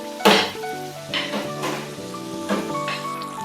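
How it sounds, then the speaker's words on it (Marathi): Banana buns shallow-frying in oil in a pan, with a steady close sizzle punctuated by a few clinks and scrapes of a utensil against the pan. "असं दोन्ही साईडनं व्यवस्थित तळून घ्यायचं त्याला"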